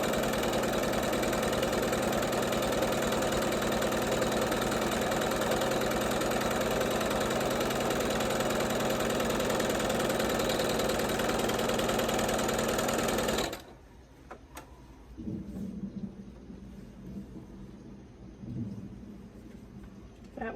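A sewing machine stitches a quilt block along drawn lines in a steady, loud run that stops abruptly partway through, leaving a quiet room with faint handling noises.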